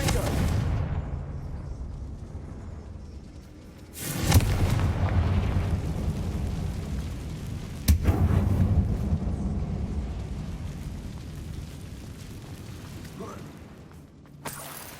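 A Confringo fire spell goes off in the Hogwarts Legacy game with two loud booming bursts several seconds apart, each trailing into a rumbling decay, while a voice talks over the scene.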